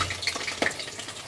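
Potatoes frying in hot oil in a pan for a Bengali mutton curry, a steady close sizzle with a few brief stirring scrapes, no voices.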